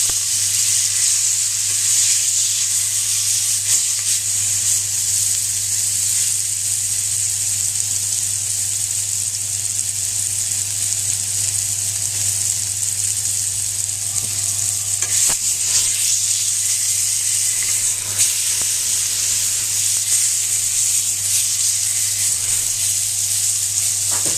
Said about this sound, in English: Now what I'm looking to do is caramelise the outside of the pork, so you get a nice golden brown all the way around.